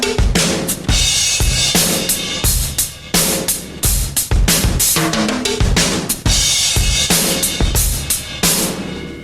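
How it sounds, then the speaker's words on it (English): Loud drum fill on timbales and rototoms in a metal drum kit setting, rapid tom hits cascading in repeated fills with crashes and kick accents, close and dense with no talk. "So the basic fill involving the timbales and rotos and all that sounds like this."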